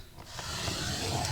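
Paper being scored with a tool along a scoreboard while making a one-sheet mini album, a steady close rubbing scrape that runs continuously with slight rasping texture.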